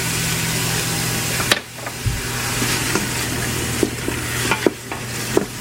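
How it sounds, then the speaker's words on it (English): Onion sautéing in melted butter makes a steady broadband sizzle, with a sharp clatter as it goes into the pan, then scattered scraping clicks of stirring. Close and fairly loud, with no talk. "I'm going to add my onion, and I'm going to saute it for 2 to 3 minutes or until translucent."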